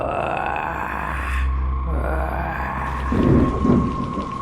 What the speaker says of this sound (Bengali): ঝিরিঝিরি বৃষ্টি এখন কিছুটা জোরে পড়তে শুরু করেছে